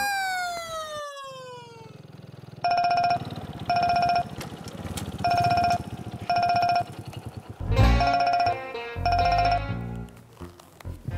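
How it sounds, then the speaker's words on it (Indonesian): A mobile phone ringtone in a TV drama scene plays as a loud, repeating electronic melody in regular bursts, after an opening falling swoosh. "Telepon siapa?"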